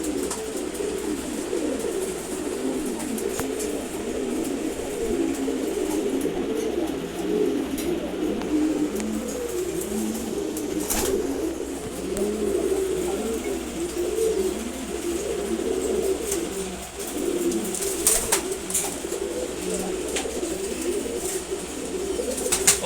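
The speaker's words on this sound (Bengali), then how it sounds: "খুবই সুন্দর একটা নর কবুতর" A handsome male pigeon coos in a loft, with repeated low, throaty cooing in an ongoing rhythm over the whole stretch and occasional faint rustles and clicks from other pigeons around.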